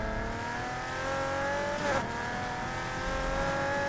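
A Rocket Bunny 350Z with a six-speed and full bolt-on tune, racing in Need for Speed Heat, holds a loud, steady engine drone. A brief rising rev swell comes near the middle, with a faint hint of tire squeal.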